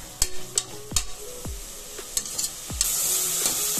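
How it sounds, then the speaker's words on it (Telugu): Onion fries in a pan while a utensil stirs it, giving sharp scraping knocks at irregular intervals over a steady soft sizzle that swells toward the end. "ఆనియన్ బాగా ఫ్రై చేసుకోవాలి."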